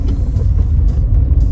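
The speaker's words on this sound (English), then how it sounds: "I'm driving to Tesco's now" A car being driven to a small supermarket, heard from inside as a steady low road rumble and engine drone, loud and close with slight surges, no talking.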